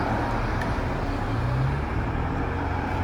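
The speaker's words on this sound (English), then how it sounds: "This is a car passing by that is playing the music." A car rumbles past fairly close, a steady low engine and road noise that swells slightly mid-way, with no talking.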